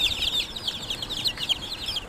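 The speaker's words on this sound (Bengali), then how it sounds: "গলাচিলা মুরগির বাচ্চা দেখতে পাচ্ছেন।" Golachila chicks, a naked-neck chicken breed, peep in a steady, busy chorus of high, thin calls, close by and moderately loud over a soft low background rumble.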